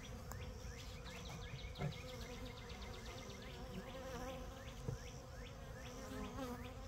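Honey bees buzz in and around a hive holding newly installed packages, a steady dense hum with faint chirping insects and a couple of soft knocks, no voices.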